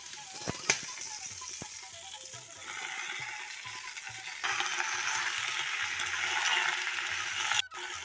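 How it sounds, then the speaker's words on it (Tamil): Washed vallarai (brahmi) greens sauté in a pan, a soft, low sizzle with faint stirring scrapes and a couple of sharp clicks, quiet and close with no voices. "இதை அதோடு சேர்த்து நம்ம வதக்கிக்கலாம்"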